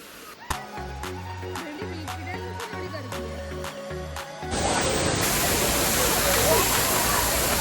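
A monsoon waterfall at Malshej Ghat roars in as a loud, steady broadband rush about halfway through, following a stretch of rhythmic tonal music.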